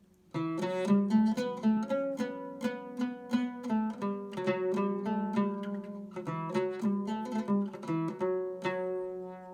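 Close, clear oud melody in the Uşak maqam, showing the segah note, with quick plucked notes and short runs, phrases rising and falling, ringing sustains between attacks, no voices.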